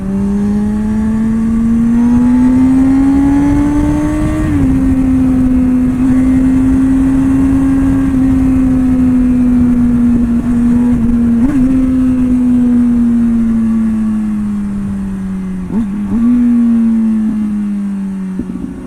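Motorcycle engine revving hard while riding through city streets, a loud, close, steady drone whose pitch rises and dips as the rider shifts and accelerates, with no talk.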